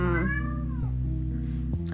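A cat lets out a long, loud, drawn-out meow close by, its pitch bending downward, followed by shorter vocal sounds.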